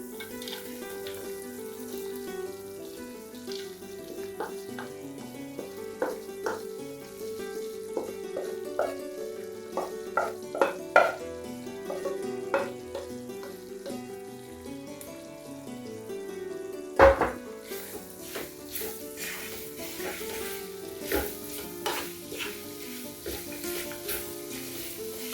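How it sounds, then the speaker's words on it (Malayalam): Soft scrapes and taps come from a spoon stirring mango pickle mixture in a pan over a low sizzle. Steady tonal music plays quietly behind them. "മാങ്ങ ചേർത്തിട്ട് ഇതെല്ലാം നന്നായിട്ടൊന്ന് കൂട്ടി ഇളക്കി ഒന്ന് കൊടുക്കാം"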